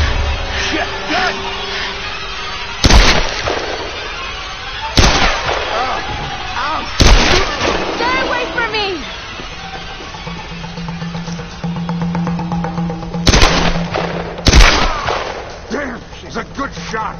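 Gunshots in Tomb Raider Definitive Edition on PS4: several loud, sharp blasts fire at irregular intervals over a continuous bed of game ambience and voices.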